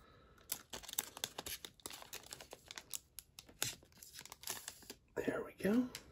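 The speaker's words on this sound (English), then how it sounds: "Use the scissors because we can't rip them again." Scissors snip and crinkle open a foil wrapper on a Metal Universe hockey card blaster pack, giving soft, irregular rustles and tearing crackles that build to a louder crumple near the end, with quiet talk nearby.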